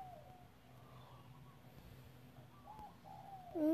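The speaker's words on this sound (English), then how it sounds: "Ooh, birds." Birds coo softly in the video game Stickman Surfer, with a few faint, scattered calls over a steady low background hum.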